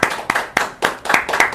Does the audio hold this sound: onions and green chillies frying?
no